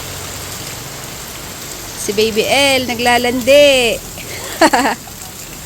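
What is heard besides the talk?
rain falling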